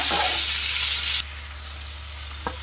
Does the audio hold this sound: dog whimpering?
no